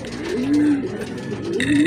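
Two soft racing pigeon coos sound close by, low rolling calls separated by a short pause, with faint background noise in between.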